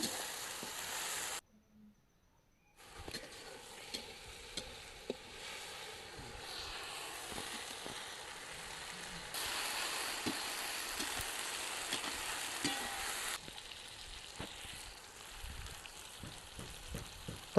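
Ginger-garlic paste sizzling softly in a pan, a faint, steady fry with small stirring ticks and a brief quiet gap near the start.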